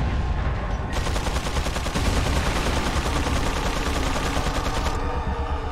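Rapid gunfire in Resident Evil 4, a loud, continuous rattle of rhythmic shots hammering on for several seconds with no speech over it.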